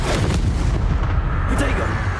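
Bombarda spell blast in Hogwarts Legacy: a dense, booming explosive burst with heavy low rumble lasting about two seconds.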